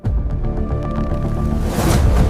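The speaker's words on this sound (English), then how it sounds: "Pouring metal pieces." Metal pieces being poured at a recycling factory, a loud, continuous clattering rush of scrap with deep rumbling and rising hiss toward the end, no voices.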